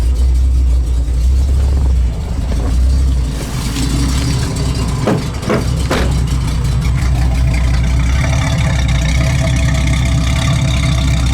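A 1966 Ford Mustang Coupe engine idles steadily and loudly up close, a low, continuous rumble with slight unevenness and a few brief mechanical clicks partway through.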